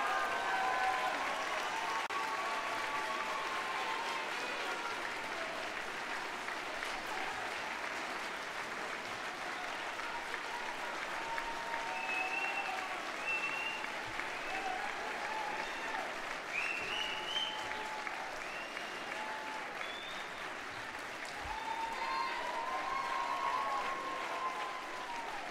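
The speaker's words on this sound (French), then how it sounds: "je vous demande de les applaudir chaleureusement" A graduation audience at a business school convocation gives long, warm applause, a steady wash of many hands clapping heard from a distance, with faint voices mixed in throughout.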